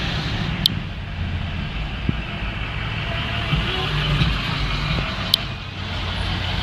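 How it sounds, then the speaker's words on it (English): Steady low rumble of road traffic surrounds a car stuck in a heavy jam, with truck engines idling and creeping nearby, a brief hiss like an air brake, and faint beeps in the background. "I'm sitting in traffic. Traffic is nuts."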